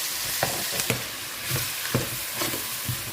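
Onions fry in a pan for mbaxal, a close, steady sizzle broken by repeated scraping stir strokes roughly every half second.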